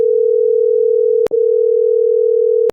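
Phone call ringing tone from a cartoon, a loud steady pure tone held for over a second, broken by a short gap, then resuming until a click cuts it off.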